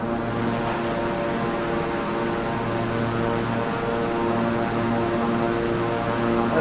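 Airliner engines roaring steadily at full takeoff thrust in Microsoft Flight Simulator, a continuous loud broadband drone with layered engine hum that holds even throughout, with no speech.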